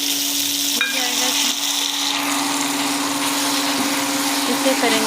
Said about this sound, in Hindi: 1 से 2 मिनट इसे अच्छे से भुनेंगे